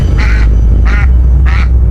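A duck quacks three times at an even pace, close and loud, over a steady low rumble in the background.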